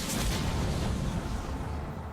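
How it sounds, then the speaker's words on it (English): Heavy starship weapon fire striking an enemy ship in Sid Meier's Starships, a single deep, muffled boom that rumbles and slowly fades over about two seconds. "I'm still going to shoot you right in the back"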